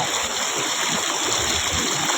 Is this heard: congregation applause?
no